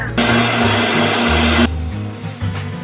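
An electric mixer whirs loudly and steadily while beating egg whites with cream of tartar for a mini chiffon cake, then drops to a lower, quieter speed partway through.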